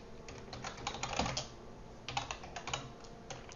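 Quick, uneven keystrokes on a computer keyboard as code is entered, soft and close, coming in short bursts separated by brief pauses.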